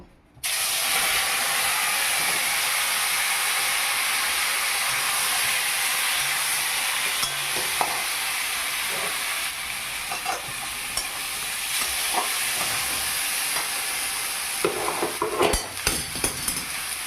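Boiled arum (maan) frying in a pan, a steady, close hiss of sizzling oil that runs throughout, with a few faint clinks of stirring near the end.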